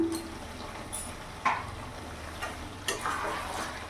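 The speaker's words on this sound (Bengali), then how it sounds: "এবার ভালো করে মিশিয়ে একসাথে আমি ভালো করে কিছুক্ষণ ধরে কষিয়ে নেব" Salt, turmeric and Kashmiri chili powder are stirred into a pan for chicken bhuna, with a low steady frying hiss and a few sharp spoon-scraping clicks against the pan.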